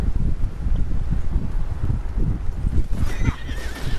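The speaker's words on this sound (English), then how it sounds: "Horse!" A horse in the video game Red Dead Online gives a loud, close whinny near the end, after scattered hoof clops and gusty wind in a rainy outdoor scene.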